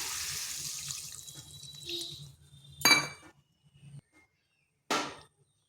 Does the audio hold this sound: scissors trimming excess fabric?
no